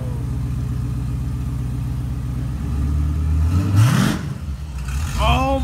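A car engine idles with a deep rumble, then revs up sharply twice, the pitch climbing and falling back, loud and fairly close.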